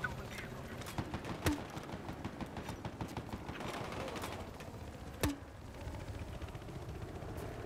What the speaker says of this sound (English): Did you miss all my shots?